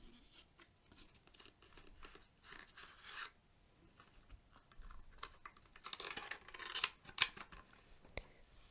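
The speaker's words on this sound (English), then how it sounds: "Let's open this deck up." Cellophane and cardboard of a new deck of playing cards being opened up close, soft crinkling, rubbing and tearing with a few sharper crackles and snaps, quiet and intimate with no talking.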